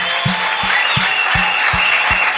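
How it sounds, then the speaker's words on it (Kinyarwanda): A church congregation claps in praise of Jesus, a sustained wash of clapping punctuated by regular low thumping beats, fairly loud and close throughout. "Piga makofi kwa Bwana Yesu Kristo."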